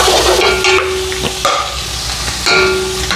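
Onions and fenugreek seeds sizzle loudly in a pan for fish curry while a spoon stirs them, with several scraping strokes over the steady close frying.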